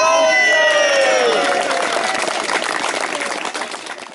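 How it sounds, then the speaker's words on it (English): A crowd cheers and whoops loudly at an auction, with a few sustained shouted voices at first giving way to a dense wash of clapping that gradually tapers off. "Big round of applause coming up here."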